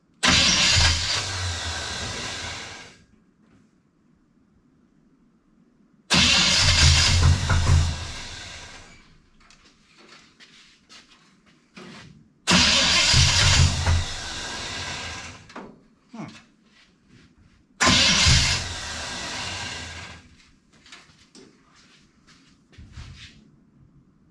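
A 1974 Pontiac Ventura with a fuel leak at the adapter base cranks hard in four long bursts, the starter grinding and the engine catching unevenly, each attempt separated by quiet pauses and a brief remark.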